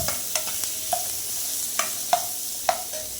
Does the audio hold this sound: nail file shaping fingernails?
no